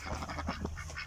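Faint, muffled quacking from ducks close by on a farm as they are herded toward geese, a quick jumble of calls over a low background hum.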